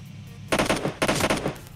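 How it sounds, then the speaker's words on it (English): Gunfire in the mobile battle royale game PUBG Mobile, two quick bursts of rapid automatic shots, moderately loud and alone. "There's gunshots."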